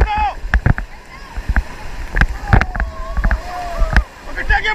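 Paddles splash and stroke repeatedly as a raft moves along the Narmada river in Gujarat, with rushing water underneath and people calling out loudly over the paddling.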